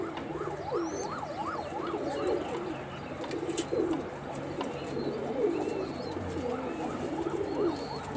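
Giribaz high flyer pigeons, silver Rajshahi originals, coo softly in a large loft, their rolling calls rising and falling repeatedly amid a busy background of other bird calls and a constant low hum.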